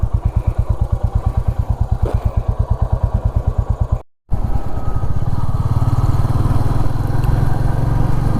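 A 2025 Royal Enfield Classic 350 in stealth black thumps at a steady rhythm up close. After a brief dropout it settles into a denser, rising engine drone as the bike rides on, with no voices.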